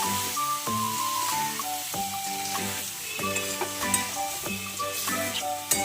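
Ginger and green chili paste stirred into a pan of frying green peas, with a steady sizzle under repeated scraping strokes of a spoon, close and fairly loud, no voices.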